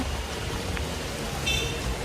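Steady outdoor rain falls on a walk to a bus stand for Gangtok in Sikkim near the Teesta River, forming a continuous broadband hiss with a brief faint tone in the middle and no voices.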